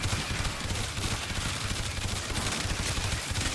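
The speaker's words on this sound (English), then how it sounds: "So see, they're shooting at me, right?" Gunfire from enemies in the video game Warframe rattles in dense, rapid bursts, loud and continuous across the whole span with no speech over it.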